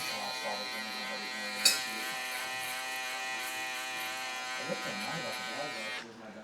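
An electric shaver lining up the bottom of a burst fade haircut gives a steady, close, loud buzz for about six seconds before cutting off.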